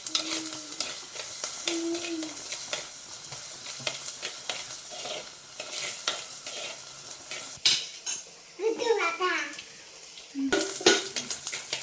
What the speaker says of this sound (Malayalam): ഇത് നമുക്കൊന്ന് ഇളക്കി കൊടുക്കാം.